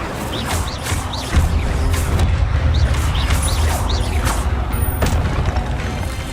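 The Incendio fire spell is cast during combat in Hogwarts Legacy, giving loud, booming magical bursts and crashing impacts that repeat over a steady wash of battle noise, with no talking.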